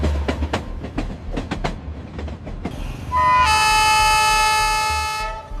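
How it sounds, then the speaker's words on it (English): A small train on the Devil's Nose mountain railway clatters along the tracks up rocky slopes with rhythmic clicks, then a loud horn blares and holds for a couple of seconds. "Small, orange-painted trains slowly crawl up the gray, rocky slopes."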